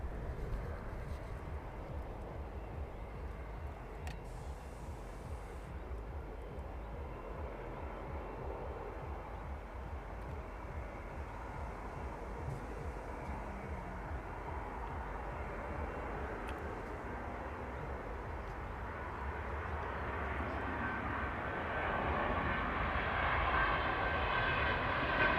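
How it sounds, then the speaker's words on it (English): Ryanair jet arriving from Wrocław on its landing approach at East Midlands Airport, a steady broad engine roar that builds slowly over about twenty-five seconds from moderate to louder as it nears, with no speech. "That Ryanair service in from Wrocław, just about to land in front of us and now."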